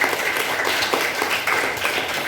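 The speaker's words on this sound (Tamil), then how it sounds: "அவங்களுக்கு ஒரு கைத்தட்டல் பண்ணிவிடுங்க" Sixth-grade classmates clap together for a student who played the teacher, a dense patter of applause from the room at moderate volume, continuous and unaccented for a couple of seconds.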